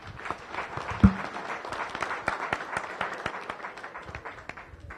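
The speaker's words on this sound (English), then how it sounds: "Please join me for a round of applause for all of our visitors today." A room of Rotary Club members gives a round of applause at their meeting, clapping building quickly and holding steady with individual claps distinct, one sharp louder clap near the start, moderately close.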